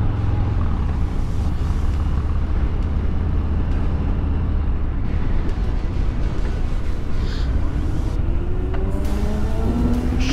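A 2022 Harley Lowrider S with a 2-into-1 exhaust riding along, its engine a steady loud rumble throughout, with rising revs near the end.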